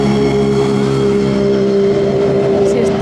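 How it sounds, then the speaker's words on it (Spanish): Race cars roll into the Jarama circuit, a loud sustained engine drone with steady harmonic whine filling the space, close and constant throughout. "Sí, están entrando por ahí los coches."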